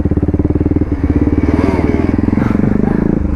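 A 250cc motorcycle engine revs hard and loud during a ride, throbbing with a fast, steady pulse for about three seconds, with no talking over it.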